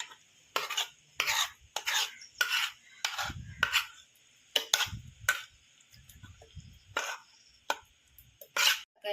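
A spoon scrapes thick homemade beet and jaggery jam from a pan into a bowl, giving a steady series of about a dozen short, sharp metallic scrapes and taps with brief pauses between them, close and alone.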